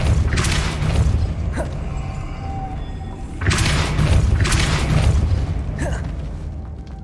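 In the Hogwarts Legacy video game, the Depulso spell is cast as a string of booming blasts and thumps, with creaking mechanisms between them, set against a dense, rumbling game background.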